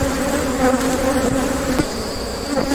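Honeybee drones buzz steadily and close at an open hive being inspected by beekeepers, a dense continuous drone with a few individual bees passing nearby and no talk.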